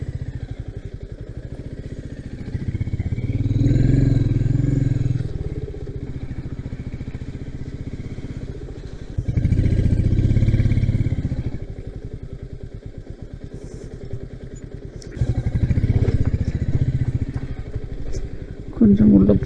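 A motorcycle engine rumbles steadily, swelling louder in surges as it revs, with a voice heard over the engine noise.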